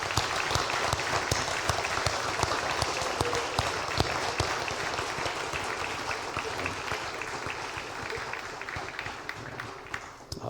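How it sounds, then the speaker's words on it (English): Audience at a senior awards ceremony gives a graduating senior class a sustained round of applause, dense steady clapping filling the hall for about ten seconds before easing slightly near the end. "Let's give one more round of applause to the class of"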